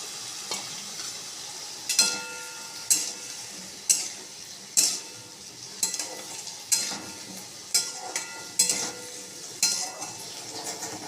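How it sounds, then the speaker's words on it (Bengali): Onion paste and potatoes fry in a pan for a kaliya curry while a utensil stirs and scrapes in a steady rhythm, with a metallic clink roughly every second over a continuous close, soft sizzle; no talking. "এর মধ্যে আমি পেস্ট করা দুটো পেঁয়াজ দিয়ে ভালো করে কষিয়ে নেব।"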